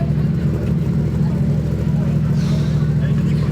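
A motorcycle engine drones steadily nearby with a low rumbling hum throughout, while people talk over it.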